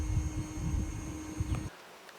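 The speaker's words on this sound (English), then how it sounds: "that's more bees than I'm waiting for here" Honey bee swarm buzzing close by in a steady, dense hum that wavers in loudness for most of the clip, then cuts off abruptly, leaving only faint background.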